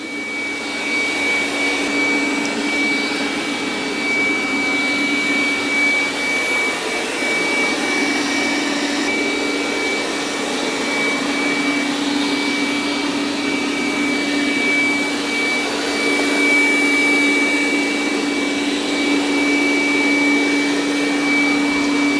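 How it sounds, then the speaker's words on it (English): A Dreame D10 Plus robot vacuum runs on its turbo setting, producing a loud, steady, close whirring roar with a constant high whine throughout and no talking. "It's doing a good job of vacuuming."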